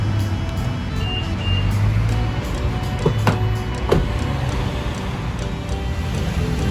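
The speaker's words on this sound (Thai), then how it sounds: "สั่งคลายล็อกนะครับ" A Toyota Revo Rocco pickup unlocks by remote: two short clicks, followed by a soft motorized whir as the side mirrors fold out, over steady outdoor background noise.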